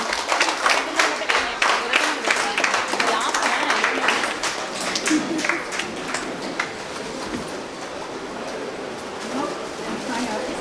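Audience applause at a women's astrology association conference, dense enthusiastic clapping from a crowd that gradually thins and softens.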